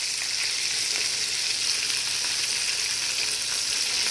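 Vegan chick'n cutlet frying in an oiled pan over a high flame, a steady loud hiss and crackle of sizzling oil that runs unbroken throughout.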